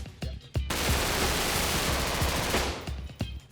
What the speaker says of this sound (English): They are semi-automatic assault rifles that can shoot over 10 bullets every second.